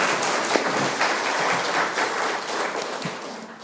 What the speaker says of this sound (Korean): 힘찬 박수로 환영해 주십시오.